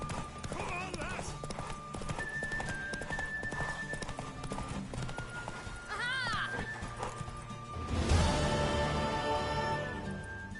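Hooves clip-clop on the ground as a horse runs in The Witcher 3, with a neigh in the middle, under game music and spoken dialogue.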